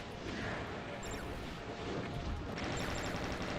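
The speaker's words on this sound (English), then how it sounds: "That was a big explosion," A big blast in a video game roaring over constant dense battle noise of gunfire and missiles, loud and sustained, with sharp crackling bursts and a brighter surge near the end.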